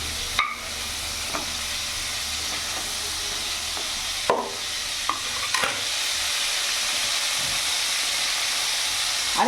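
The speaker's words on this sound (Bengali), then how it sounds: "চিংড়ি মাছগুলো লাল করে ভেজে নিয়েছি।" Prawns frying in hot oil in a kitchen pan, giving a constant loud sizzling hiss, broken by a few sharp clatters of a spatula, close and steady across the whole stretch.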